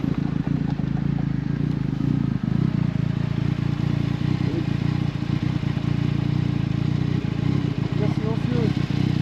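Dayi Odin 125cc electric motorcycle being ridden, a steady drone with rumbling road and wind noise throughout, close and fairly loud.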